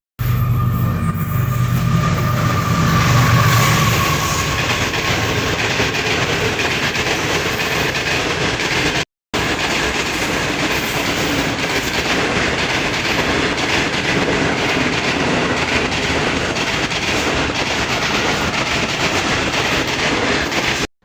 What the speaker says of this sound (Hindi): ये है हमारा सिटी का station Birpur Mathelo railway station.